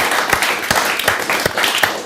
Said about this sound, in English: give it a round of applause for the cameras